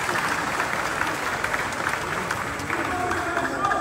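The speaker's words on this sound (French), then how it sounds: "Donc c'est important d'applaudir, s'il vous plaît, pour nous le commissaire." Delegates at a Haitian Baptist convention applauding in a large hall, a dense sustained wash of clapping from many hands that holds steady throughout, with a voice briefly heard over it.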